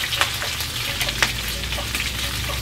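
Pieces of chicken sizzle in a hot pan for pollo encebollado, a steady nearby frying hiss broken by sharp pops and crackles.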